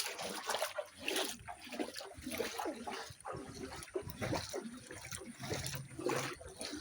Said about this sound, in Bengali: এটা বাড়ির ভেতরে ঘরে জল ঢুকে গেছে। দেখতেই পাচ্ছেন পুরো দালানে জল থই থই করছে।